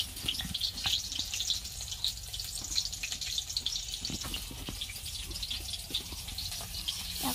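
Pumpkin flower fritters, dipped in batter, crackle in hot oil with scattered bright pops and spits over a continuous close hiss, steady throughout without any voices.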